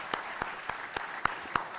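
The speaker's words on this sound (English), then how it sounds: "let's give both of our candidates one more good final round of applause" An audience applauds for the candidates at a county district candidate forum, with steady clapping throughout and a few sharper claps standing out.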